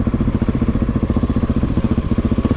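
A Husqvarna 701 supermoto with a fuel-injected single-cylinder engine thumps along while riding, its rapid, even pulses loud and close throughout.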